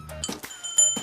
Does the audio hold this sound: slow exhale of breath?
no